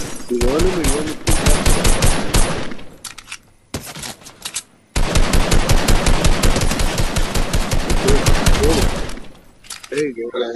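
Rapid bursts of gunfire in Fortnite, loud and close, firing in long rattling strings with brief pauses and a sharp cutoff, with voices talking over parts of it.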